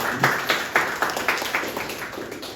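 Scattered audience clapping at a welcome for a guest during an official visit by the religious affairs minister's staff to a Buddhist vihara in Siborongborong. Distinct claps sound in an uneven rhythm and thin out toward the end, with no talk over them.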